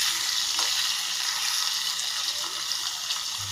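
Paneer pieces fry in a pan until browning, giving a steady, close hiss of sizzling oil with small crackles throughout and no voices.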